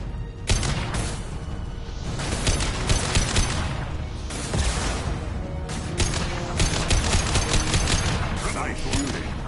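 Dense, sustained gunfire from the video game Mass Effect 2, a rapid fusillade of overlapping shots and bursts that keeps up loudly across the whole stretch, with voices talking over the shooting.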